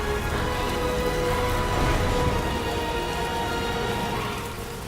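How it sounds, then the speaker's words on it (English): Heavy rain pours steadily in the video game Death Stranding 2, a dense, continuous hiss that stays loud for the whole stretch and eases slightly at the end. "Raining like crazy."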